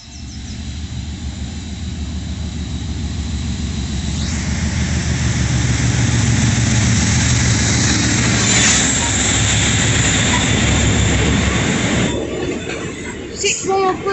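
A Class 56 diesel locomotive hauls a full rake of oil tankers past Huncoat, building to a loud, close, sustained rumble and clatter of wheels and wagons with a faint squeal, then easing as it moves away.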